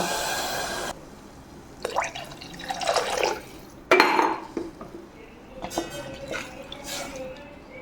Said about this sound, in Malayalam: ഞാൻ 1 ഗ്ലാസ് അരിക്ക് 2 ഗ്ലാസ് വെള്ളം ഒഴിക്കുന്നുണ്ട് കേട്ടോ